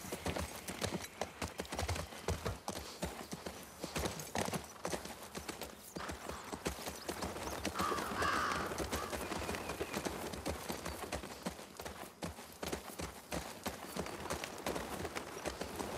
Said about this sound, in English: I'm gonna hop back on the horse.